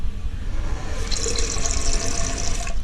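Water sprays steadily from the wash nozzle of a Tushy bidet attachment on a toilet as a continuous close hiss that brightens and grows slightly louder partway through, with no talking.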